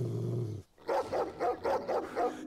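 Dog barking in the video game Ghost Files 2, five loud close barks in a steady rhythm after a brief pause, with no talk over them.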